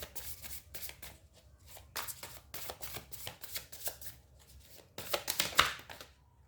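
Tarot cards shuffled by hand close up, a run of soft riffling, flicking bursts in an uneven rhythm, fairly quiet, with no talking.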